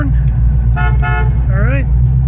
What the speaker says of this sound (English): Car got a working horn.